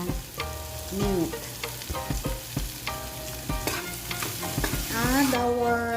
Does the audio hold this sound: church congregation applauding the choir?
no